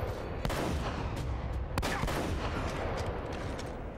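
Desert Eagle pistol fire in the video game Uncharted: Drake's Fortune, several sharp, loud gunshots spaced irregularly over a dense bed of background gunfire and action noise, with no talk.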